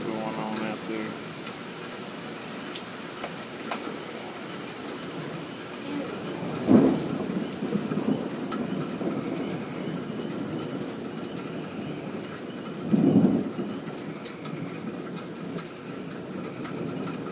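Steady rain falls through an Alabama thunderstorm under a tornado warning, with two distant rumbles of thunder swelling briefly over the constant wash of rainfall.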